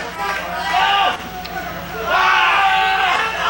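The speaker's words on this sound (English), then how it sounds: "This crowd is screaming at Marcellus King" An indoor independent wrestling crowd yells and roars in two loud swells around a match, with a commentator's voice running over the noise.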